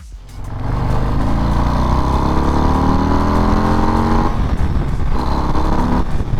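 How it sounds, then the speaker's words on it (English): A 2023 Harley-Davidson Breakout 117 with its Milwaukee-Eight 117 V-twin pulls hard on a demo ride, the loud engine climbing through the gears with rising revs, a brief shift dip, then accelerating again close to the microphone. "The M8 117 engine delivers a thrilling experience and it begs to be driven hard and fast."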